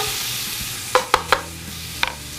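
Carrots tumble into a pan of sizzling garlic, bacon and olive oil, giving a few sharp clattering hits over a steady low fry, close and alone with no talking.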